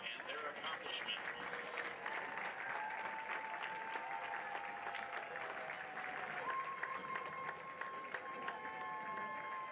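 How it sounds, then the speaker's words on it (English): At an MNU college football game against Peru State, a stadium crowd applauds student athletes with a broad, distant wash of clapping and cheering, and a faint tonal whistle or horn drifts through the background. "one more round of applause for these amazing student athletes and their accomplishments"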